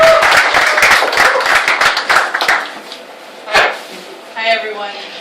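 An audience claps for a poet at a live reading, a dense burst of applause that thins into a few scattered claps, with some speech over it.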